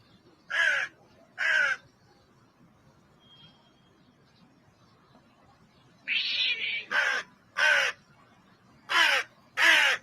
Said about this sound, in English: That crow is lucky it's not getting pounced on.